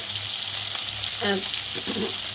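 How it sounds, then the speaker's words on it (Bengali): Pieces of katla fish fry in a pan with a steady hissing sizzle, and a few soft clatters are heard as the pieces are turned, close and moderately loud. "তো দেখুন মাছগুলো আমার এক পাশ হয়ে গেছে, এখন অন্য পিস উল্টানো হলো।"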